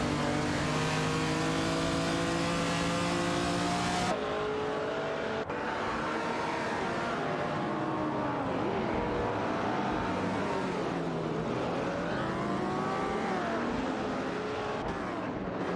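Race car engines in an AI racing video game roar and rev with sustained high-pitched whine, pitch sweeping up and down as gears shift, loud and continuous with no talk.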